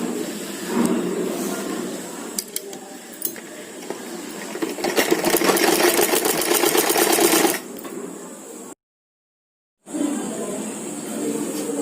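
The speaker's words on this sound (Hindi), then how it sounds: "अब इसकी हम सिलाई करेंगे इस तरह से।" A sewing machine stitches a kurti being made into a short suit, running in short bursts that build to a long steady run before stopping, then resuming; no speech is heard.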